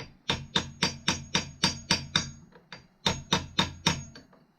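A seal driver taps a crank seal into place on a 1973 Kawasaki G5 motorcycle: about a dozen sharp, close metallic taps in two steady rhythmic runs, separated by a short pause, with no talking.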